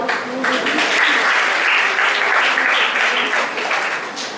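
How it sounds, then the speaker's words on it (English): Audience at an international college of education conference applauds steadily for several seconds, a dense wash of clapping at fairly even loudness that tapers slightly at the end. "Clap all of you."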